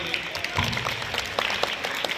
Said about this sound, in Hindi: अब यहां पर ताली बजाने वाली बात है